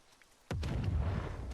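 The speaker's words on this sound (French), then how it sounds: "Une explosion." A single sudden deep boom in a video game bursts in and then rumbles on loudly with low, sustained energy, with no talking over it.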